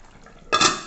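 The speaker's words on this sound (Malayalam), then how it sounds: "മീൻ ഇവിടെ നല്ലോണം തിളച്ച് വന്നിട്ടുണ്ട്" After a quiet moment, bubbling and sizzling from a pan of fish curry boiling down suddenly rise, loud and close, and continue steadily.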